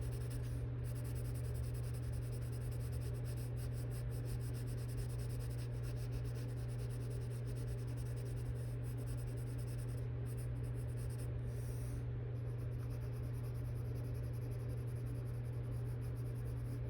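Colored pencil strokes on paper in a coloring book, a soft, steady scratchy rubbing that continues close and alone over a constant low hum.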